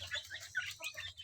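Free-range village chickens cluck softly and irregularly while pecking at feed, with short overlapping calls close by.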